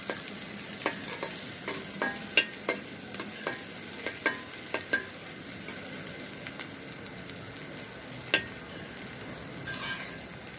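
Chopped ginger and green chilies frying lightly in a pan with greens, a steady soft sizzle broken by frequent stirring clicks and scrapes of the spatula, close and moderately quiet, with no talking.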